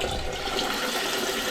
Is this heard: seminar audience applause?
no